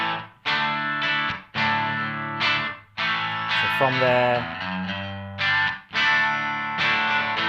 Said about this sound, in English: we're getting very classic overdriven sounds